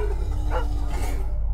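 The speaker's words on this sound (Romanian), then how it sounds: "Mai erau și sunete de câini sălbatici." Cartoon sound effect of wild dogs barking in a spooky animated horror tale, a loud dog bark and yip layered over a steady background drone.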